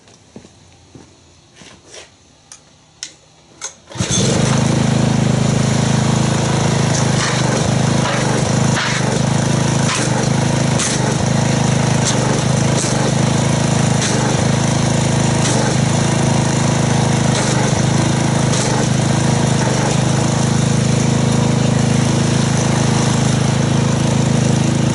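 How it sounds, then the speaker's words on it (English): Pressure washer spraying Turtle Wax Max Power car wash foam, a loud, continuous droning motor hum that kicks in abruptly after a few soft clicks and runs steadily close by. "Let me get the pressure washer and let's see what kind of foam we get."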